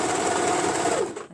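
A sewing machine stitches a pair of short pants in one loud, continuous mechanical whir that slows and stops at the end.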